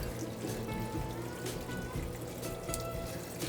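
Water trickles and pours steadily out of an equine water filter being drained, a close, continuous flow with small bubbling and gurgling flickers.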